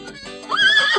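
A horse neigh sound effect plays in a PowerPoint horse race game, a single rising whinny that swells loudly over the second half of a brief, close, clean effect with no talk.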